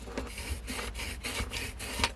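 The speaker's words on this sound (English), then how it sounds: "We will burnish that down" Folded, glued paper for a platform pop-up card being burnished down by hand, a quick series of rhythmic, dry rubbing strokes close to the microphone.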